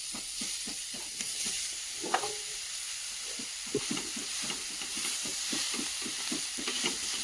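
Cluster figs (umbar) being stir-fried in a pan with no garlic or onion, a steady sizzle broken by a regular run of soft scraping stirs, close and moderately loud with no talking.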